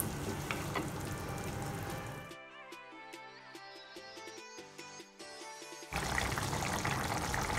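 Onion paste, added after ginger-garlic paste, sizzles loudly in a pan for chicken white karahi. The steady frying hiss cuts off partway through while tonal music plays, then returns at full strength at the end.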